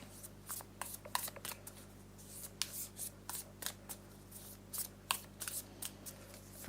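Tarot cards being shuffled by hand before a reading, with quiet, quick riffles and soft slaps in an uneven rhythm, close up against a faint steady hum.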